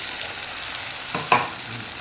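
Onions fry in a pan for a vegetable egg curry, a soft steady sizzle broken by one quick stir and scrape of the spatula.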